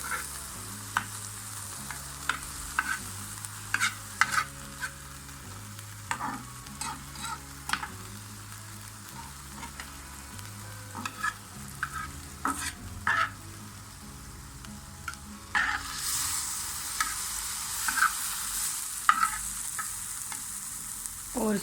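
Chicken chili bites fry in a pan with soy sauce and chili sauce, giving a steady close sizzle broken by frequent clicks and scrapes of stirring. A low rhythmic hum runs underneath.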